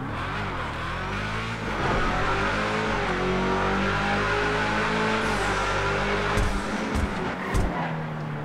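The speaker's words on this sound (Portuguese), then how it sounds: "O somzinho desse carro realmente é o ponto forte" A Hustler hot rod in GTA 5 Online revs hard inside a tunnel, its engine note swelling and echoing, then easing back with a few sharp bursts near the end.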